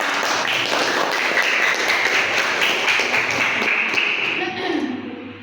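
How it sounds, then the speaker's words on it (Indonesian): Audience clapping in a room after a simulation-game practice session, a fairly loud, brisk patter of applause that fades near the end, with a voice talking over it. "boleh tepuk tangannya"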